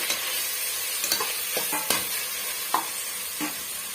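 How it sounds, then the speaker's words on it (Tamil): Tomatoes for tomato rice sautéing in a pan, with a steady close sizzle and frying hiss broken by scattered scrapes and knocks of a stirring spoon. "இந்த தக்காளி பழம் ஒரு அளவுக்கு நல்லா மசிச்சு வர்ற வரைக்கும் நம்ம வதக்கி விட்டுக்கலாங்க"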